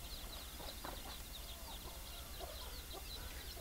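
Young chicks pecking at termites, with soft, faint clucks and chirps scattered over a quiet outdoor background, no talking.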